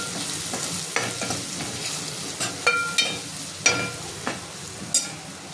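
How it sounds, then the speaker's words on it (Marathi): Masala and goda masala spices sauté and sizzle in a pan while being stirred, a steady frying hiss broken by several sharp scraping clicks of the spoon against the pan. "ते छान परतून घेते सर्व"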